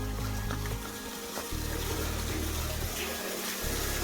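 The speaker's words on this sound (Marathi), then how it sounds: "झाली मित्रांनो मोटर सुरू." An electric motor water pump starts up at a farm well, with a steady low rumbling hum and rushing water that keeps going throughout, close and fairly loud.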